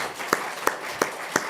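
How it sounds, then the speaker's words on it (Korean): Church congregation clapping together at a New Year's Eve service in Chuncheon, four evenly spaced unison claps over a soft room hum. "다 같이 우리 박수 한번 하겠습니다."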